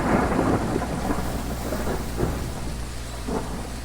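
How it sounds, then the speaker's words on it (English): Heavy rain pours and thunder rolls in Phasmophobia, with a loud low rumble at the start fading into a long grumbling tail over the constant rain. "Yes, Thunder, I get it."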